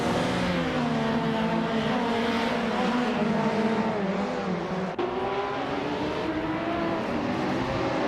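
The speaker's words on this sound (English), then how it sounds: "Driving a classic 1996 Mitsubishi GTO." Engine of a 1996 Mitsubishi GTO race car in a racing video game, a steady loud drone with shifting pitch as it accelerates, with a brief dip partway through and no talk over it.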